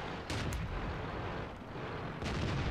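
Tank cannon shots in World of Tanks boom out in a few heavy, low blasts, one near the start and another near the end, with no talk over them.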